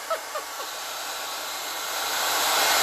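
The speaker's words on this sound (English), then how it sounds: "Okay, let's blow dry." A hair dryer blows steadily in a close, loud, breathy hiss that swells slightly toward the end, after a few brief chirps at the start.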